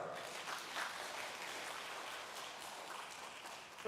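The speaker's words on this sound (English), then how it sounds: "Can I have the biggest round of applause for Fusion" Fairly soft applause from a seminar audience at an international conference, an even wash of clapping that holds steady, ending with a sudden louder bump.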